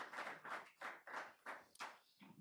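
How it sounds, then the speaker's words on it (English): Several sharp claps from a small group in a council chamber, arriving in separate uneven bursts at a fairly distant, modest level before fading out. "I understand the desire to applaud"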